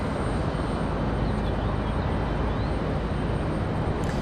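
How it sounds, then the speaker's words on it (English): A Lufthansa airliner bound for Frankfurt takes off at Raleigh Durham airport, a loud, dense, steady engine roar heard at some distance, filling the air without letup. "Lufthansa taking off back to Frankfurt."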